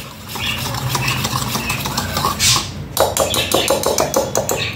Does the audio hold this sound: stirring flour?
yes